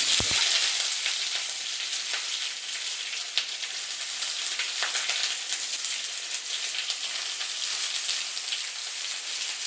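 Chopped onion fries in hot oil with curry leaves, giving a continuous close sizzle with occasional stirring scrapes and no voices.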